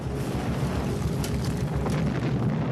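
A comet impact explosion rendered as a deep, sustained rumbling roar that fills the low end, loud and continuous throughout, with a faint windy hiss layered on top.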